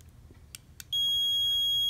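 A Gemologist lapis diamond tester beeps: two short chirps, then a sustained, steady high-pitched tone that holds to the end, close and clear in a quiet room.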